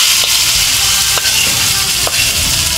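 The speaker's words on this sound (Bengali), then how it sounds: "এবার আমরা ডালের মধ্যে দিয়ে দেব পেঁয়াজ রসুনটা ভেজে" Fried onion and garlic tempering tipped into lentil dal with ridge gourd, a loud, continuous close sizzle and hiss with a few sharp clicks of a utensil, no speech.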